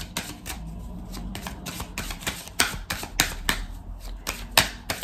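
Oracle cards are shuffled by hand for a relationship reading, giving a quick, crisp run of papery riffles and snaps, up close and fairly soft, with no talking.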